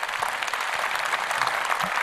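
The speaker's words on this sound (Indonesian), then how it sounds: "Tepuk tangan." A seated audience at a Kadin (Indonesian Chamber of Commerce) gathering with delegates from 34 provinces claps steadily; the applause is moderately loud and sustained for the whole short moment, with little talk.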